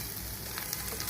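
Beef fry with coconut pieces being stirred in a pan, a dense, steady sizzle and crackle of frying close up, brief and without talk.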